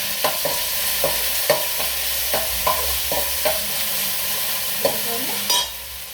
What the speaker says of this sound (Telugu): ఉల్లిపాయ వేగింది, అల్లం పేస్ట్ వేస్తాను. 1 స్పూన్ వేసి స్పూన్నర చాలు. దీన్ని కలుపుతాను.